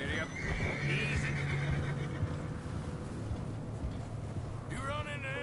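A horse whinnies in Red Dead Redemption 2 over hoof clops and ambient noise. The call is moderately loud and comes amid the in-game soundscape.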